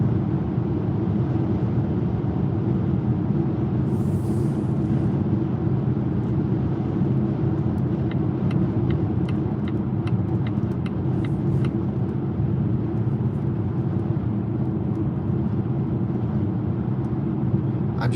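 A Volvo XC40 Recharge Twin Ultimate electric car cruises on a highway, heard as a steady loud low rumble of road and wind noise from inside the cabin, with faint ticking clicks partway through.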